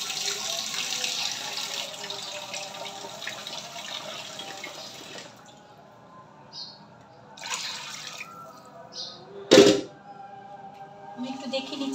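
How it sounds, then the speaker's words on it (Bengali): Water pours into a rice cooker pot while a Bengali one-pot khichuri is made, a steady splashing stream in the opening seconds that thins to quieter trickles, with a brief sharp clatter near the end and a voice speaking at times. "তো পানি দিয়ে দিচ্ছি আমি।"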